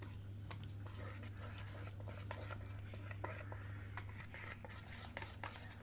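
Suji mango cake batter is stirred with milk in a bowl, soft irregular scraping and light utensil taps over a steady low hum.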